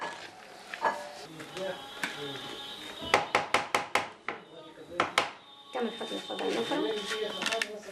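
Onions and vegetables being chopped on a board in a kitchen for a Tunisian lamb sausage stuffing, with a quick run of sharp knife taps in the middle and scattered clatter around, while people talk.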